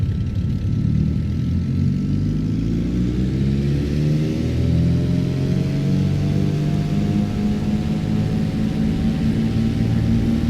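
A Cirrus SR-22T engine in the X-Plane 12 flight simulator powers up for takeoff with a steady, loud, low drone and a slowly rising whine under it, running continuously without talk.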